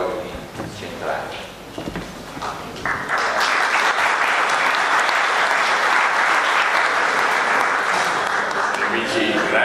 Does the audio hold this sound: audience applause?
yes